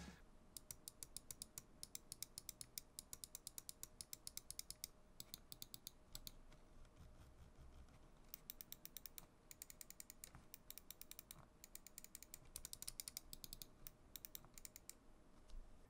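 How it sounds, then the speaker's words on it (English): Rapid clicking from an Xtrfy M4 RGB gaming mouse, its buttons and scroll wheel tapped in quick bursts, crisp and close but quiet, with short gaps between runs of clicks. "for those of you that want the click-clack, clickety-clack test, here is a sound test of the M4"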